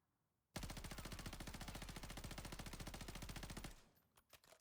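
Automatic gunfire from a video game gun during a recoil macro test, one long rapid unbroken burst of evenly spaced shots, loud and close, for about three seconds before cutting off into a few faint trailing clicks.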